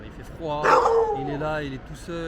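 A stray dog in Istanbul yips and whimpers in short, pitched barks, close by, while someone talks over it in French.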